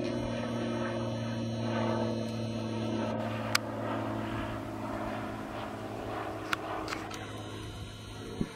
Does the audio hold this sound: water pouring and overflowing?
no